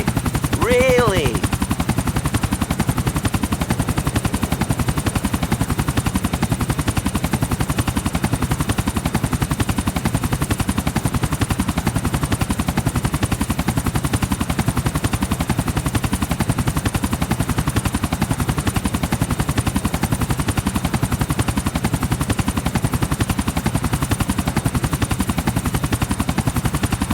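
Helicopter flying in the video game GTA IV, a loud, continuous rotor chop and turbine whine holding steady throughout, close and dense, with a brief high whistling sweep near the start.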